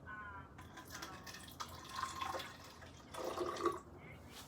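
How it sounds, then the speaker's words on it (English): Water is poured from a container into a lab vessel being filled to a 50 millilitre mark, giving a soft, moderately close liquid trickle that comes in short bursts. "My next step is to take my water and fill"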